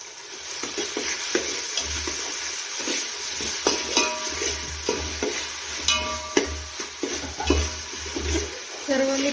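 Mixed vegetables for paneer pulao are stirred in a sizzling pan, with repeated scrapes and clatters of a spoon over a continuous frying hiss, close and fairly loud.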